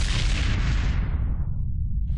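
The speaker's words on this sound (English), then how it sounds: "Mortars!" Mortar fire in the World War II game Brothers in Arms: Hell's Highway, a heavy booming blast with a deep rumbling roar that fades out over about two seconds.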